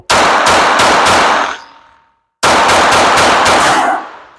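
Two rapid bursts of gunshots from a Glock 44 .22 LR pistol firing copper-tipped rounds, each a quick string of sharp cracks with ringing decay, separated by a short pause.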